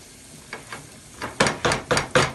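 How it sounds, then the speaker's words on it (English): Onions sweat in a pan for carbonara, giving a soft sizzle broken by a run of sharp stirring scrapes that grow louder and come in a quick, regular rhythm toward the end. "You can see a little bit sizzle."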